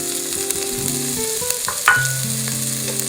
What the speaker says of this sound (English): I'll start off by sauteing the onions with a little olive oil to grease the skids.